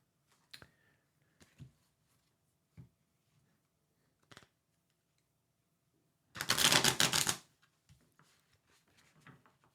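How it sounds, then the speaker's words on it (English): Tarot cards are shuffled in a quiet room: a dense burst of riffling in the middle, with scattered soft taps and clicks of card handling before and after. "I'm going to start my shuffling of the cards."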